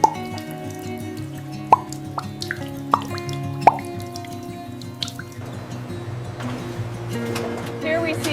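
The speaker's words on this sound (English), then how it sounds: "We utilize a precisely calibrated, gentle water spray to ensure the complete removal of dust and residue." Cabernet Sauvignon grapes washed under a gentle water spray at a wine estate, with distinct drips and plops over a steady wash that turns into a denser, hissing spray near the end.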